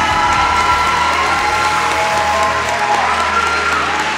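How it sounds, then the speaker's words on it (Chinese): Steady, dense applause and cheering from an audience at a Taiwan strongman competition, loud and sustained throughout with occasional whoops rising out of the crowd noise. "我们给五位选手热情的掌声。"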